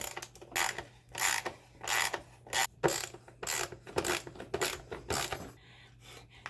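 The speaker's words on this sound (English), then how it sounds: "take off the seat, which just has these two bolts underneath the rear fender here" Two bolts under the rear fender of a Honda XR100 are loosened with a ratchet, which gives repeated bursts of quick, close clicking with short pauses between them.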